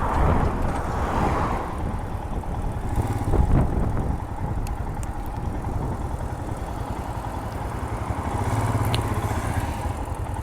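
A Royal Enfield Himalayan adventure motorcycle rides along on the way back to the dealership, its single engine giving a steady, close, continuous drone with slight swells in loudness.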